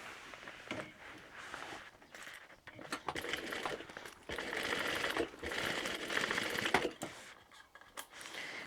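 A sewing machine stitches a row along a tote bag in quick bursts of rapid needle chatter, stopping and starting between runs, close and clear with no talking.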